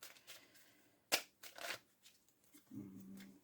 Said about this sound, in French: Alors, je reprends mes cartes.